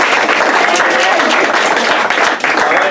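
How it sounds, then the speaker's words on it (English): A crowd at a progressive fall potluck in Santa Cruz, California, applauding loudly and steadily, with cheers and voices mixed into the dense clapping throughout. "let's give another round of applause to Karen."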